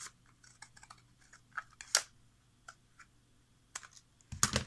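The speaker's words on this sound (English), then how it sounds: "Cut your envelope in some angle." Scissors snip through decorative paper for an envelope, giving a few short, close, irregular clicks and crisp cuts over a quiet background.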